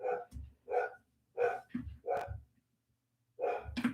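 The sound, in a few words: dog barking loudly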